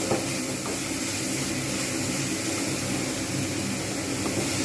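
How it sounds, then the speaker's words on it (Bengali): Soya chunks fry in a pan and are flipped over and over, making a loud, continuous hissing sizzle with no breaks and no talking. "যতক্ষণ পর্যন্ত না যাচ্ছে ততক্ষণ পর্যন্ত আমি কিন্তু এপিট ওপিট করে ভালোভাবে ভেজে নেব"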